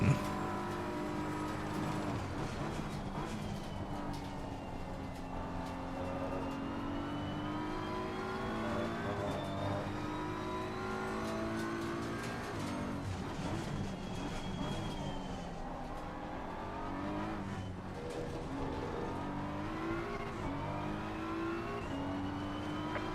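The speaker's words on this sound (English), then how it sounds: "Faster cars approaching." Several GT3 race cars in Assetto Corsa Competizione at Silverstone close in, their engine notes rising and falling steadily under a continuous, fairly loud drone of the player's own car.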